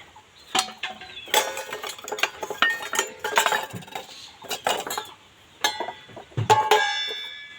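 Utensils being handled while fetching a cup for freshly boiled milk tea: scattered metallic clinks and clatter of dishes and cutlery, close and fairly loud, in short bursts with no talking.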